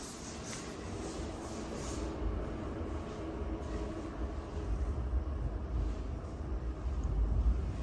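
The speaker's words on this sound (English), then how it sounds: "Yeah, you can barely hear the train." A low, muffled rumble of a passing New York subway train grows gradually louder, heard faintly through apartment walls beneath a steady indoor hum.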